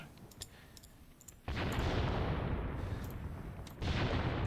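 Gunfire in the war video game Graviteam Tactics: a quiet stretch of faint clicks, then a sudden loud volley of sustained firing, a brief dip, and another burst resuming at the end.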